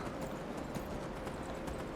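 Skyrim horse galloping, a steady run of hoofbeats in quick rhythm over a continuous rushing background, fairly loud and with no voices.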